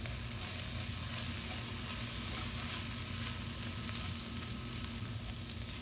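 Onions frying in oil with turmeric and spice masala for a Kerala-style roasted-coconut chicken curry, giving a steady, close, even sizzle throughout with faint stirring, and no voices.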